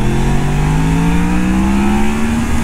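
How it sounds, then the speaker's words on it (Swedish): A Yamaha MT-10 motorcycle engine revs loudly and steadily while riding, its pitch climbing gradually. The engine note is close and continuous, with wind noise underneath. "Nu tar vi och gasar på lite för sig."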